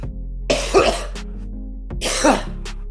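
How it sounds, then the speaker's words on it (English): Two harsh, close coughing fits from a man on a podcast microphone, each a short burst of rough coughs separated by a pause, over a low steady hum. "I've had my mic off only because I've been coughing"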